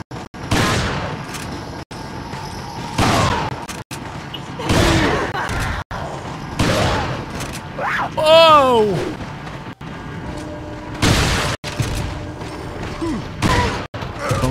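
Shotgun blasts in Resident Evil 4 Remastered on PC, a series of loud, booming shots spaced a second or two apart, each followed by a short mechanical clack, with a brief warbling cry partway through.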